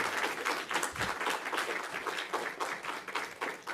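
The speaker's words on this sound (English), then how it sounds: "I want to give the panel a big round of applause there." An audience applauds a panel after a discussion on race, ethics and the arts, a rhythmic spread of individual claps pulsing steadily, somewhat distant and soft.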